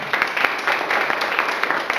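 A church congregation applauds during a Spanish-language service, a steady, dense wash of many hands clapping at close range that holds for about two seconds without a break.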